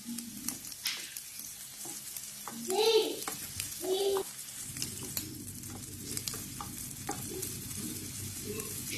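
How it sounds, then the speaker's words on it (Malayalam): Chicken sausages fry in a pan with a soft, steady sizzle, broken by a few louder bursts of stirring and scraping around the middle. "എല്ലാ സൈഡും ബ്രൗൺ കളർ ആകുന്നത് വരെ നമുക്കിതിനെ ഫ്രൈ ചെയ്തെടുക്കണം."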